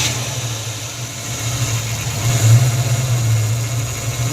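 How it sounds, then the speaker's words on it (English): A project car's engine idles steadily and up close with a low droning rumble, rising briefly midway in a slight rev before settling back to idle. "Go ahead and try to start it."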